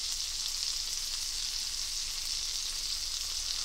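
Trader Joe's spicy Thai shrimp fried rice sizzling in a hot pan, a constant bright hiss of frying held close and steady for a few seconds, no talking.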